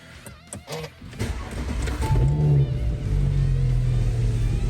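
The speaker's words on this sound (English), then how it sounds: "let's take the car out for a spin and let's make sure that the brakes are okay" An Audi S4 B9 pulls away for a test drive after a brake pad and disc replacement, engine rising into a steady, close cabin rumble after a few brief clicks and knocks at the start.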